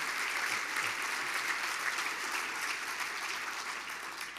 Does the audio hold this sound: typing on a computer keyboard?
no